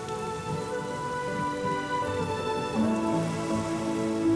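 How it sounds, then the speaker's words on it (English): Steady autumn rain falls close by in the Scottish Highlands in a continuous wash, with tonal hums woven underneath and no pauses. "Light rain between the showers."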